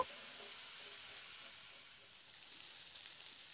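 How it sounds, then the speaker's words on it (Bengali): Cauliflower florets fry in a pan over a medium flame, giving a soft, continuous sizzle that stays close and steady with no other sounds over it. "তো ফুলকপি ফুলগুলোকে দিয়ে মিডিয়াম ফ্লেমে নাড়াচাড়া করে বেশ একটু লাল লাল করে একটু ভেজে নেব"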